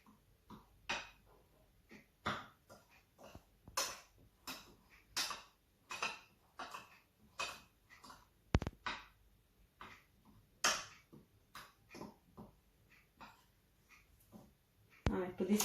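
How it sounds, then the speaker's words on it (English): Cookie dough ingredients (flour, baking powder, salt and baking soda) being mixed in a bowl for peanut butter cookies, heard as a steady run of light, irregular clinks and taps of a utensil against the bowl at a quiet level. "and mix it."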